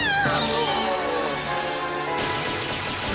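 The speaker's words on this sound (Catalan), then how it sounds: "Què és això? Un gat?" A cat in an anime cartoon meows loudly in a long, wavering wail up close. It is followed by a sustained tonal musical sound and dramatic effects.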